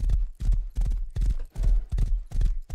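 Horse hooves clip-clop in the video game Rust, a loud close run of heavy thudding steps in a steady galloping rhythm, roughly two to three beats per second, with no voices.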